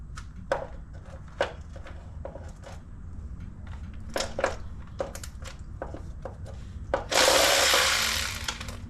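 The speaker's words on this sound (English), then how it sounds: "I'm gonna finish taking the bolts off and pull the pan down." A wrench works on the oil pan bolts of a BMW E36 engine, producing scattered metallic clicks and ratchet taps up close, ending in a louder sustained rush of noise.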